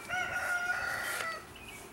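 Chickens cluck and a rooster crows briefly, their calls rising over a steady outdoor background with no one talking.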